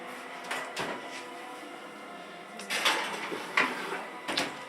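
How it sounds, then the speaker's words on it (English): A pie dish goes into a kitchen oven set to about 400 degrees, with several short clunks and clatters of metal and glass against oven racks, a few distinct knocks spread across a quiet room. "So go ahead and put that in the oven"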